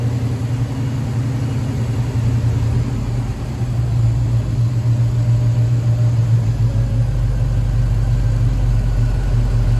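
A 1969 Pontiac Firebird engine fitted with a Holley Sniper fuel injection idles steadily up close, a continuous low rumble with no talk over it.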